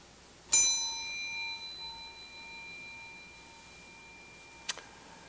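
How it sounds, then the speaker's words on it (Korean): A single metallic bell strike during a Sunday church sermon rings out bright and close, its shimmering tone decaying slowly over several seconds, followed by a lighter second tap near the end. "그러면 예배를 부르는 종소리가 나는 것입니다."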